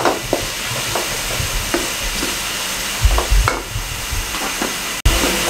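Potatoes tossed with turmeric and spices sizzle in a hot pan, a loud continuous fry hiss broken by scraping spoon strokes and clanks against the metal, with no speech.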